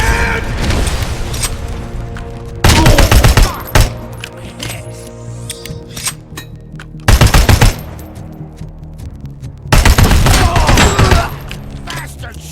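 Loud bursts of rapid automatic gunfire from the video game RoboCop: Rogue City, arriving in three or four dense volleys of several seconds each, with brief voices and quieter game sound in the gaps between them.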